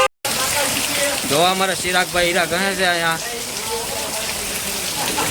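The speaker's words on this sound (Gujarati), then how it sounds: "જો સરસ મજાનો વરસાદ જામ્યો અને કડાકા ને ભડાકા થાય છે" Heavy monsoon rain pours steadily in Rajavadar village, Mahuva taluka, a dense continuous hiss that runs the whole time while someone talks briefly over it in the middle.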